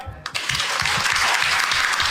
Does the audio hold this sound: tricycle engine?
no